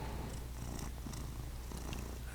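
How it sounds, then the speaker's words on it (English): A cat purring close by, a steady low rumbling purr that runs continuously and quietly, with no talking. "Oh, he's purring."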